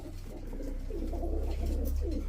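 Pigeons coo steadily in low, throaty rolling phrases, several birds overlapping close by against a low background hum.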